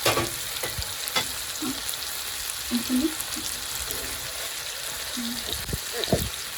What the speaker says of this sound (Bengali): এই যে চিকেন ফ্রাই তো আজকে রান্না কিন্তু আমার মেয়ে করতেছে